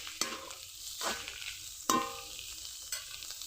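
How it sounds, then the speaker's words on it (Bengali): Potato and cauliflower pieces fry with onion in hot oil in a wok, a steady sizzle broken by a few sharp scrapes and clatters of stirring, close and fairly quiet. "এখন আলু আর ফুলকপিগুলো দিয়ে দিব।"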